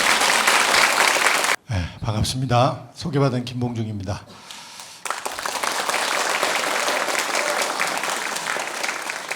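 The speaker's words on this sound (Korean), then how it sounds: "환영의 박수 부탁드립니다." Loud applause from a lecture audience welcoming a Korean history professor at a public humanities talk, filling the opening before breaking off as he begins speaking, then swelling again loud and steady behind and after his greeting.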